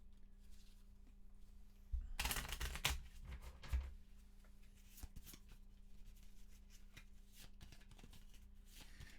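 Deck of cards shuffled by hand during a solo Arkham Horror board game, one quick dense riffle burst lasting about two seconds, followed by soft taps and light handling of cards.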